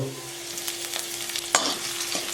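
Ginger, garlic and green chillies sizzling in ghee, with a loud, continuous frying hiss and a sharp stirring clatter partway through, and no talking.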